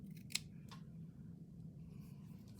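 Scissors snipping lace for a fabric journal and needle book, a few quiet, close, crisp cuts in quick succession, then near silence.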